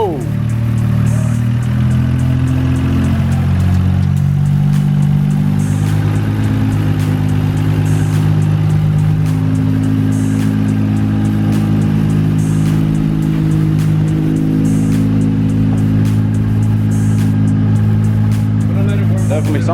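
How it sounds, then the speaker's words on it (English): A Nissan R32 GT-R engine with a new APEXi power intake runs loud and steady throughout, a deep rumbling idle with slight swells in pitch, close by and continuous. "I'm gonna let it warm up a little bit, and then I'm gonna rev it"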